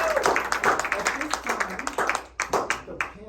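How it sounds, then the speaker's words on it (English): Small audience giving a round of applause after a senior thesis presentation, with quick, uneven handclaps close by, tapering off toward the end while voices talk over them. "Let's give a round of applause."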